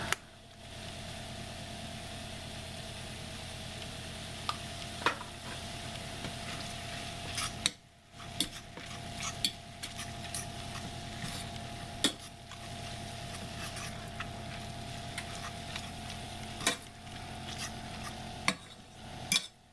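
Ground meat browning in a pot with Cajun seasoning and black pepper for bacon cheeseburger soup, a steady crackling sizzle with occasional stirring scrapes and clicks, moderately close, no talking.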